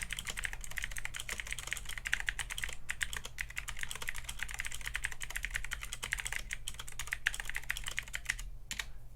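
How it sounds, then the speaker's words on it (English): Steady, rapid typing on an AJAZZ AK33 RGB mechanical keyboard with thin keycaps, a close, continuous patter of light clacks with occasional louder spacebar hits carrying a slight ping, and no one speaking. "Now that I'm typing on it properly, rather than just mashing keys, it does have a bit of ping on the spacebar by the sounds of it."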